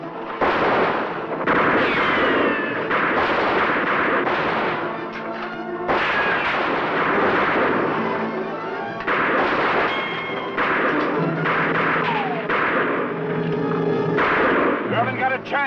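Gunfire during a train holdup in an old Western TV drama: repeated close, loud shots and crashing bangs in uneven bursts, with shouting voices mixed in over the noise.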